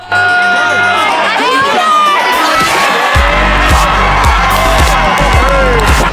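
A large stadium crowd roars and cheers at an AFL football game featuring Hawthorn, a loud sustained wall of voices and whoops with a heavy low rumble building partway through.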